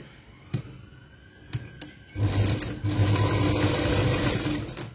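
A tailoring sewing machine stitches through thick cloth, a few isolated knocks and clicks first, then a steady, loud, continuous running whir from about two seconds on, close and alone.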